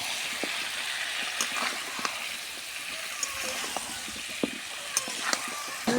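Pumpkin and tomato being stirred in a hot pan for a jatka fish curry, a steady low sizzle with scattered spoon knocks and scrapes.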